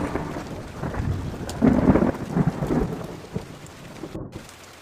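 A thunderstorm with heavy rain: a steady downpour hisses throughout while thunder rumbles and rolls loudly through the middle, then fades back to rain, with no voices.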